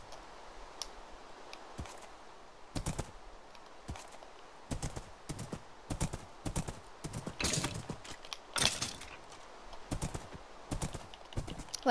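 Horse hooves clip-clopping in a Minecraft-style game, a steady run of close, sharp hoof clicks with irregular spacing and a few louder bursts, heard alone without talk.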